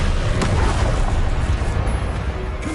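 A disarming spell cast in the video game Hogwarts Legacy lands as a sharp magical burst followed by a rumbling, explosive wash that fades over a couple of seconds, loud and close.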